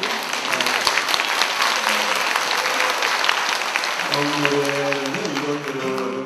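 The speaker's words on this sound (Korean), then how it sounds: "참 그 박수 많이 쳐주셔서 너무 감사합니다" A concert audience applauds after a song, loud sustained clapping from a crowd, with a voice starting to speak over it in the final seconds.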